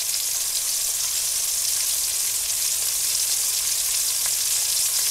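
Liquid poured in over browned pork chops sizzles steadily in the pan, a loud, even frying hiss that stays constant throughout without any talking.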